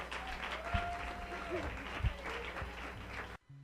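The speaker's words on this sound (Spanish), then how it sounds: "Un aplauso, por favor." Applause from a church congregation mixed with some background tones and a few thumps, cutting off abruptly near the end.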